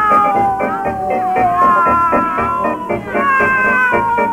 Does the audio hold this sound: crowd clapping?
no